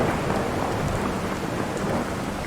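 Heavy pouring rain with rumbling thunder in the video game Fallout 4, a steady dense roar that continues unbroken throughout, loud and close with no voices.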